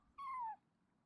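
Kitty, a cat in the Genshin Impact video game, gives a single clear, falling meow lasting about half a second, close and alone over quiet background.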